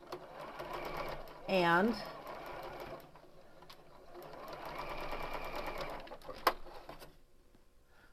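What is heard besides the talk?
sewing machine sewing quilt block pieces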